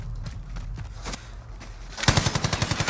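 Gunfire in Warzone: scattered shots and game noise give way to a loud, rapid burst of automatic fire in the last second, close and rhythmic, with no speech.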